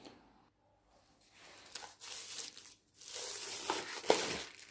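Packaging for a keyboard and mouse pad kit is torn and crinkled open, with a few soft rustles at first and then louder, choppy bursts of tearing and crumpling close by.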